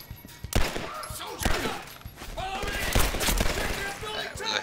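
Rapid gunfire in the video game Legendary crackles in dense, uneven bursts with several sharper shots standing out, fairly close, and a voice talking over parts of it.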